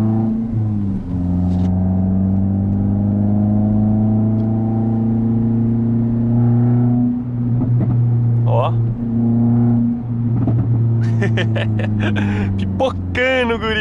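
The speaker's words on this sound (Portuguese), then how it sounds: "Que ronco da hora que esse carro tem, véi." A Renault Sandero RS with a 150 hp engine revs hard and accelerates, a loud sustained engine drone rising and falling close by, with crackling pops toward the end.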